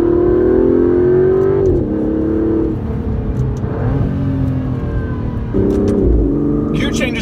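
An Aston Martin DB11 pulls away under steady throttle, its engine note climbing smoothly, dipping briefly at gear changes and rising again, loud and close throughout, with a voice talking over it.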